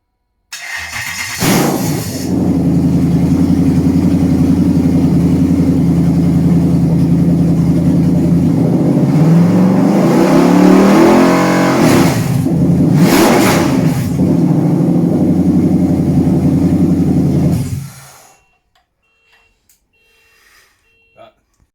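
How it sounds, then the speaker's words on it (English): A Toyota 1UZ VVT-i V8 fires up for the first time on a new wiring loom. It catches quickly, settles into a steady, loud idle with a few sharp revs, then cuts off into near silence. "let's watch Ian fire up his VVTi"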